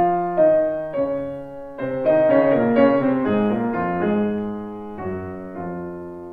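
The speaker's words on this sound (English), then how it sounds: "So to begin with the piano introduction" A solo piano plays the introduction to a piano and clarinet piece, a few single notes giving way to fuller chords and a moving melodic line, clear and close with no other instrument or voice.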